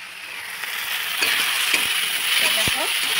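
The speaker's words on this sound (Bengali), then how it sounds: "সোয়াবিন দিয়ে এরকম করে ভাজা তোমরা বানিয়ে খেও" Soybean chunks fry in hot oil with a steady, even sizzle, joined by a few light scrapes and clinks of a stirring utensil against the pan.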